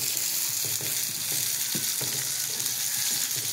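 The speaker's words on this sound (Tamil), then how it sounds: "சின்ன வெங்காயம் போட்டுடலாம். வெங்காயம் வதங்கட்டும்." Small onions sautéing in hot oil for a South Indian keerai kulambu give a continuous, even sizzle close by, with soft stirring knocks scattered through it and no talking.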